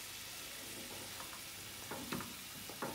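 Keski fish curry simmering and frying in a pan over a medium-low gas flame, a steady soft sizzle with a few brief stirring clinks near the end, no voices.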